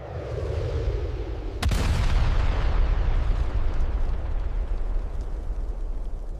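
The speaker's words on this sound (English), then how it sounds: "Moments later, a massive explosion shook the region." A deep, massive explosion erupts suddenly with a sharp crack, then rumbles on as a long, loud roar of low booming noise that slowly fades.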